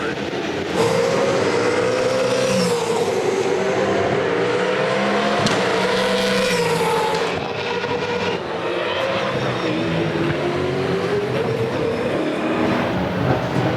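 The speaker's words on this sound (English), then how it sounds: "the cars head out under clear skies here at Clipsal" Loud, continuous engine roar from V8 Supercars heading out onto the Clipsal track in Adelaide, rising and falling as they pass, with a brief voice underneath.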